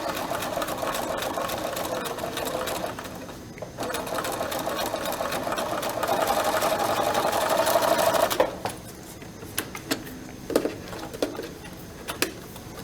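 Sewing machine stitches fabric in a steady, close whirring run for about eight seconds, with a brief pause partway through. It then falls quiet, leaving scattered small clicks and a faint background hum.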